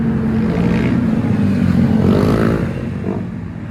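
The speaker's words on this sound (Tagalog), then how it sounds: "pakinggan nyo lang yung makina ng mga motor" Loud motorcycle engines idle and rev steadily at a roadside stop on Marilaque highway, a rough low rumble with a brief rising throttle before easing slightly at the end; no talking.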